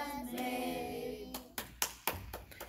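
Children clap their hands at a Sabbath church gathering. A sustained sung tone fades out first, then about five or six separate, uneven claps follow at close range, fairly loud.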